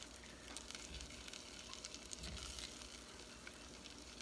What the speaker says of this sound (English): So I'll stir this continually.